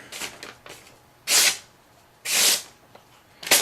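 A razor-sharp small Sebenza knife, freshly stropped on green compound, slices a sheet of paper: a few faint rustles, then three crisp, close swishes spaced about a second apart.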